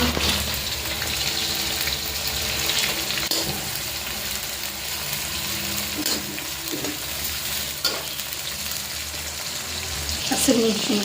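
Onions sizzle steadily in a hot pan for egg rice, with occasional scrapes and clinks of stirring over the continuous frying hiss.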